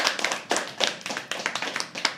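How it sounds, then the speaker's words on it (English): An audience at a live poetry open mic at The Habitat claps in loose, irregular bursts, close and fairly sparse, a small room's worth of hands with no talking over it. "Keep clapping till he comes on stage."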